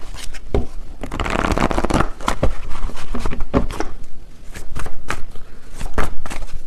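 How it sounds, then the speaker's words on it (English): Tarot cards are shuffled by hand in a steady run of riffling and slapping bursts, close and fairly loud, with no voices. "let me get a few more cards"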